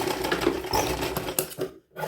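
A sewing machine stitches along inverted fabric for a bow on a small girl's midi dress, a steady close whirring run that stops briefly near the end before starting again.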